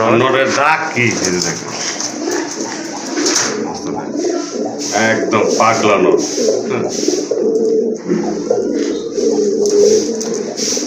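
Pigeons coo steadily in the background while someone talks loudly over them, the soft repeated calls blending with his speech throughout.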